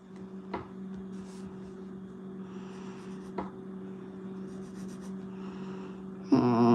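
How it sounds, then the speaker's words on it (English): Pencil or pen scratches steadily across paper up close during a live drawing session, a soft continuous rubbing with a couple of small taps, ending in a brief louder rustle. "I am currently drawing Vinny"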